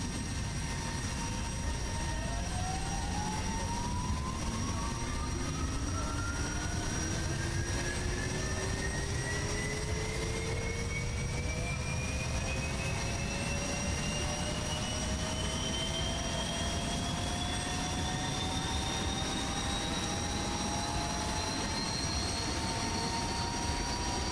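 Simulated jet engine in DCS World spooling up at 25% throttle, a steady whining tone rising slowly in pitch over a constant broadband roar, loud and uninterrupted with no talk.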